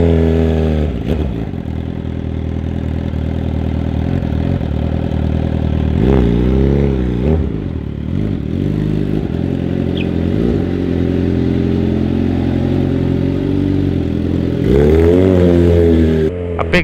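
Suzuki GSX-R SRAD sport motorcycle accelerating hard, its loud close engine climbing through the revs in several rising pulls, broken by brief drops at gear changes.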